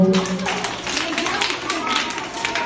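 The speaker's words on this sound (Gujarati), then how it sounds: "સરસ તાળી આપો" A group of children clap their hands together in a brisk, scattered round of applause, close and lively, with an adult voice talking over the start.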